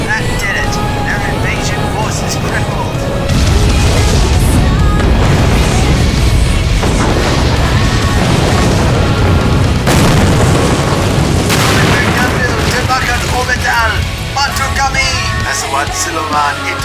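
Shockwave missile explosions hitting a merchant fleet in an aerial combat video game, heavy booming blasts and rumbling roar that surge loud and sustained, with a voice talking over the din.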